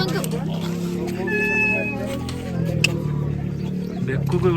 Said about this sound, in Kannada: ಬೆಕ್ಕದು ಮಿಯೋ ಅಂತ ಬರುತ್ತೆ